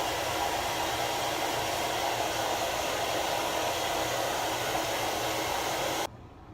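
Hair dryer blowing steadily on freshly washed new dreadlocks, a loud, even rushing roar held for about six seconds before cutting out abruptly to quiet room tone.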